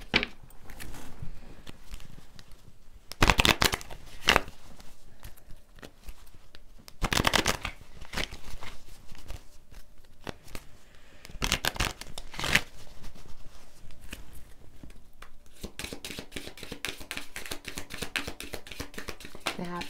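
Tarot cards are shuffled repeatedly in close, crisp bursts of riffling and flicking, with short pauses between rounds and a quick run of rapid shuffles at the end. Faint talk can be heard in places.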